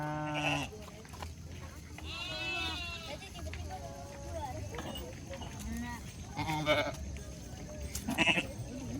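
Several goats bleat close by in a camp setting, with wavering harmonic calls repeating across the clip over steady background noise and occasional children's voices.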